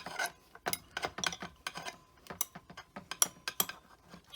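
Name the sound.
small wrench tightening a bolt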